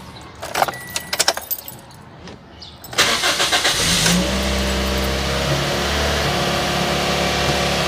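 Car keys jangle close up before the ignition turns and the engine of a car fresh from a PCV valve cleaning cranks, catches and settles into a steady, even idle.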